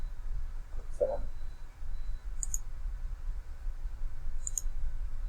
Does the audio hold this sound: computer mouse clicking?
yes